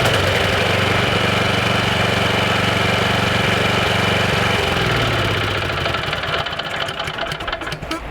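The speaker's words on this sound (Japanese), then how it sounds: "エンジンがついてる時にこのボタンを押すとエンジンが切れます" A small tiller engine runs with a steady, loud chugging hum, then is switched off around five seconds in, its drone winding down and leaving mechanical clatter.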